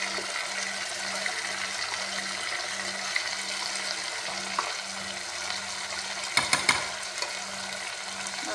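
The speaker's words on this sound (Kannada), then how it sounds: "ನೋಡ್ರಿ ಇದು ಫ್ರೈ ಆಗಕ್ಕೆ ಹೊಂಟೈತಿ" Grated coconut fries in a pan for green chicken gravy, giving a soft, steady sizzle with a low pulsing hum underneath and a short cluster of clatters near the end.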